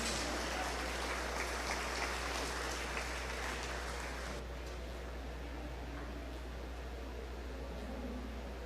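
An audience at a 2021 beef showmanship show applauds as exhibitors leave the ring. The clapping is faint and distant, a dense rain-like patter that softens partway through.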